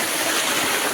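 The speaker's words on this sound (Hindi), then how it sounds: "कितना तेज़ बहाव है पानी का।" Fast-flowing water rushing at Benki Waterfalls, a loud steady broadband roar close by with no pauses, no voices over it.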